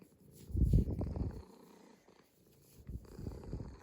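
A cat purrs close to the microphone in a soft, low rumbling rhythm, swelling in two bursts with a quiet gap between them, and no talking.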